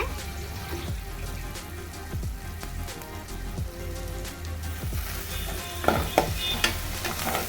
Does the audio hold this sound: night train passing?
no